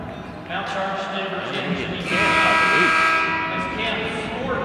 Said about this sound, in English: Whistle underneath.